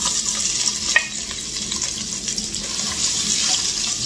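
Onion sizzles in hot olive oil in a pan for spaghetti meatballs, a steady loud hiss with a few stir clicks, close and alone.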